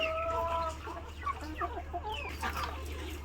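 Native free-range chickens on a farm cluck in a quick run of short, nasal calls, close and moderately loud over a steady low hum.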